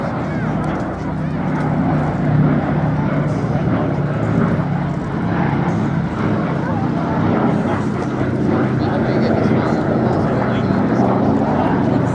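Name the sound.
B-17 Flying Fortress 'Sally B' four-engine bomber flying at airshow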